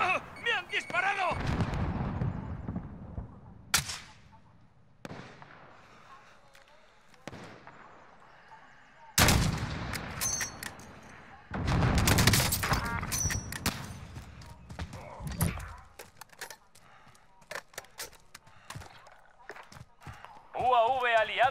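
Gunfire in a shooter video game comes in several loud, heavy bursts and scattered shots spread across the clip, with quieter stretches between them and in-game voices speaking throughout.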